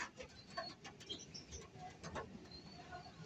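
Pigeons cooing after drinking wild honey, soft repeated coos and small chirps close by, faint and intermittent over quiet background.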